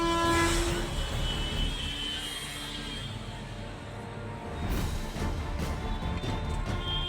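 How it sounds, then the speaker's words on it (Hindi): A train approaches a railway crossing in India, its horn blaring in a loud sustained blast at the start over a heavy rolling rumble of wheels and carriages that continues and swells again near the end. "इधर ट्रेन का ड्राइवर तेजी से हॉर्न दे रहा है"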